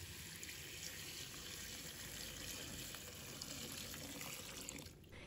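Tap water pours steadily into a basin holding cauliflower with salt and flour, a continuous close splashing fill that cuts off near the end.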